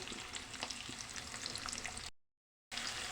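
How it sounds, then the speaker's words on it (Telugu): Curry leaves with onion, carrot, green chilli and cashews frying in oil for jowar rava, a soft steady sizzle with light stirring that cuts out briefly before resuming, no voices. "కరివేపాకు వేసి కొంచెం ఫ్రై చేయండి లైట్గా కొంచెం కలర్ చేంజ్ అవ్వాలి"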